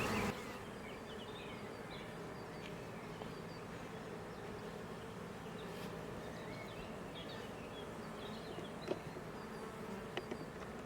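Honeybees buzz steadily around an open beehive, a dense, continuous drone with a few closer individual passes, fairly faint and without voices.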